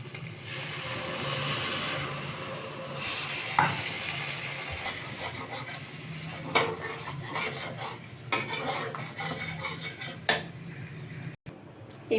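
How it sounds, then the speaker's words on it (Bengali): Water goes into fried spice masala in a pan for a tengra fish curry, producing a sizzle amid scraping spoon strokes and clattering cookware, with sharp knocks spread over the stretch. "এবার আমি জলটাকে অ্যাড করব।"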